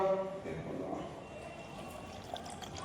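Water is poured into a jug, a soft, close, continuous trickle and gurgle at low volume that fades slightly as it goes on.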